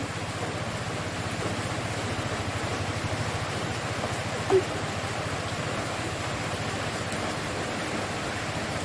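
Heavy tropical rain pours down steadily outdoors near a cooking fire, a dense, even hiss that stays loud and unbroken throughout with a single faint tap in the middle and no talk.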